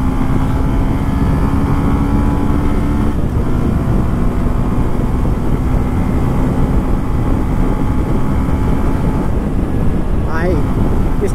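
Bajaj Pulsar N125 motorcycle accelerating during a ride, a steady loud engine drone with a rising tone under heavy wind rush across the whole stretch, with a person speaking over it.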